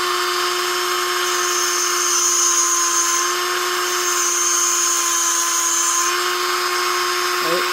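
Electric tungsten grinder sharpening a TIG welding tungsten electrode, a loud steady high-pitched motor whine with a faint change in pitch near the end as the grinding ends.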